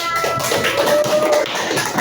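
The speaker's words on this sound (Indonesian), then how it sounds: "Oke, tepuk tangan." Classroom of fifth-grade students clapping after a group presentation, a dense patter of hand claps close by with some shuffling and faint voices mixed in.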